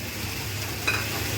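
Sesame and poppy seeds with crushed ginger, garlic, asafoetida, coriander and fennel seeds frying in hot oil, a soft steady sizzle with a faint stirring scrape.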